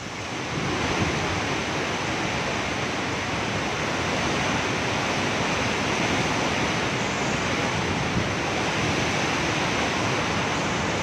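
Strong gusting wind from Super Typhoon Rolly roars as a loud, dense, unbroken rush that stays steady and close throughout, with no voices.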